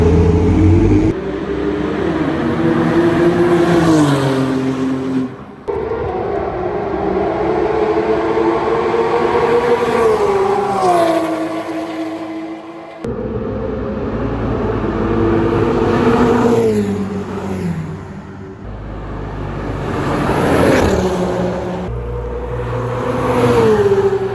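Expensive cars roaring past one after another on a pit lane in Dubai, each engine rising and fading in loud flyby sweeps with rising revs and a continuous rumble throughout.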